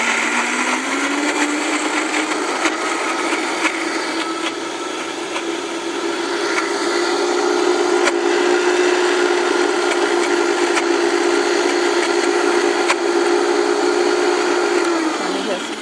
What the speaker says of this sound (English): Make sure your high-speed blender top is on securely before you start to turn it on.